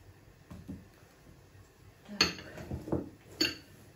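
A few light clinks and knocks of spice containers and pots being set down on a kitchen surface, quiet and spaced apart.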